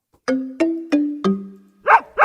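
A short podcast-network jingle with a dog theme plays four ringing, decaying tonal notes in a steady rhythm, then two quick bark-like bursts, clear and upfront with no talking.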